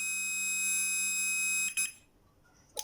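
A multimeter beeps on continuity while testing an electric iron's thermostat, a steady high-pitched tone held for under two seconds, then cut off, followed by a short faint blip.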